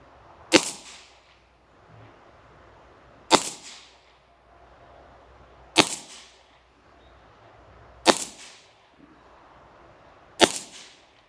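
An air pistol fires five sharp, evenly spaced pellet shots at a target about 20 metres away, each a crisp snap followed by a brief decay, with quiet between them.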